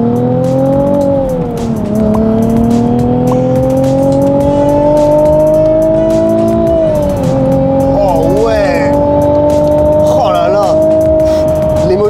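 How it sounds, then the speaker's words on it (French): Japanese car's naturally aspirated V6 revving around 4000 rpm, a loud smooth engine drone rising steadily with a couple of brief shifts in pitch, heard from inside the cabin at speed with road noise underneath. "Ce moteur, vraiment, là, tu l'entends à 4000 tours"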